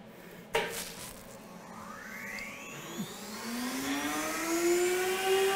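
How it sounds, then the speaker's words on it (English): A CNC router spinning a half-inch solid carbide router bit at about 25,000 RPM gives a faint whirring whine that rises steadily in pitch as it spools up, after a single sharp knock near the start. "Half inch solid carbide router bit."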